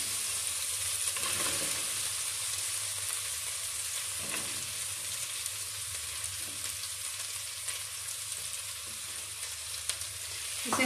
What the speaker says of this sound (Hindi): इसे हल्का ब्राउन होने तक फ्राई करेंगे।